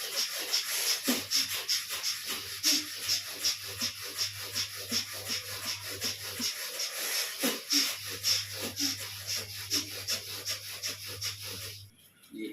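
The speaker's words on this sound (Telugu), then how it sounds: "శ్వాసాయామం చేయండి." A fast, forceful breathing exercise sounds as rapid, rhythmic breaths pushed through the nose in an even pulse, close to the microphone, over a faint steady hum.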